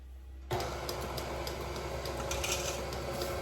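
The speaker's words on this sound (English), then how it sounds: "I'm going to put them back in the mixer now" A stand mixer whirs on as it beats cake batter with eggs for a black fruit cake, starting abruptly after half a second and running steadily and loudly with a mechanical rattle to the end.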